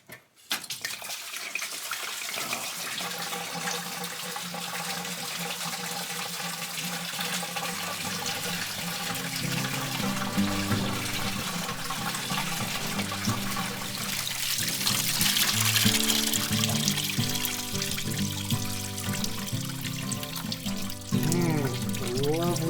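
Coolant pours out of a pulled lower radiator hose on a Volvo 240, a steady trickling gush that builds over about twenty seconds and grows louder near the end, with no talking.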